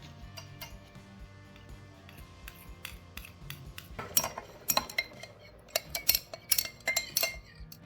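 Niacinamide being added to a glass beaker while making a DIY skin serum, heard as light, irregular clinks and ticks of glassware and utensils that grow sharper and more frequent toward the end, with no voices.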